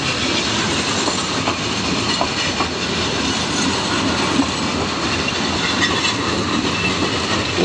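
A train rolls along the rails with a steady rumble and rhythmic clatter of wheels, loud and close, with no voices.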